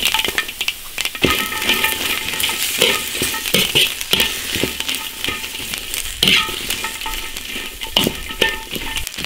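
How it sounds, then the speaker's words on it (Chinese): Chili peppers stir-fried in an iron wok make a constant loud sizzle, broken by the frequent scrape and clink of a spatula stirring them around. "先把辣椒炒熟。"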